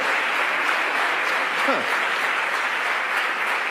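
Applause from a church congregation during a sermon, a steady, even wash of many hands clapping that fills the whole stretch, with a brief voice rising faintly underneath.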